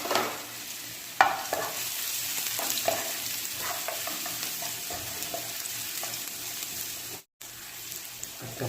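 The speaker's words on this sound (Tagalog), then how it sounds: "siyempre ang unahin natin ay yung ating garlic sa paggigisa" Garlic sautéing in hot oil in a pan for ginataang tilapia, a steady soft sizzle with occasional stirring clicks and scrapes, close and continuous, with a brief dropout near the end.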